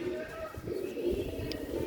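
Sialkoti silver rooftop pigeons coo softly and continuously close by, low rolling calls under faint background noise.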